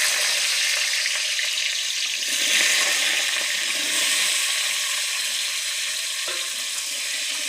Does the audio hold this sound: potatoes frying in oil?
yes